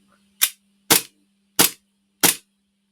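Gas blowback airsoft rifle fired four times in a steady rhythm, each shot a sharp, loud crack close by, with a faint hum between shots and no voices.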